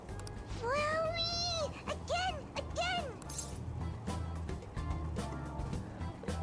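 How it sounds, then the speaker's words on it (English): A toy cat in the video game Persona 5 Royal lets out several rising and falling meows when pressed on the head, bunched closely together over steady game background noise. "It meows when you press on its head."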